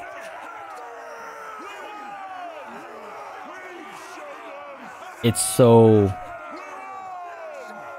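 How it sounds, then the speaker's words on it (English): Crowd cheering from the Mount & Blade II: Bannerlord video game, a steady dense roar of voices in the background under a brief spoken word, with a short louder burst near the middle. "hear the cheering in the background"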